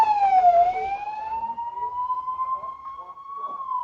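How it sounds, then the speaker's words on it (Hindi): An ambulance siren wails close by, its pitch sliding in a long sweep, with faint background voices and street noise underneath. "ये एम्बुलेंस भी यहाँ पर आ चुकी है"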